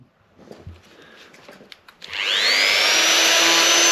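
A mini drill fitted with a sanding attachment smooths the rough seam of a joined disc, starting after a couple of seconds of light handling noises as a steady, loud high-pitched whine with abrasive grinding that holds constant to the end.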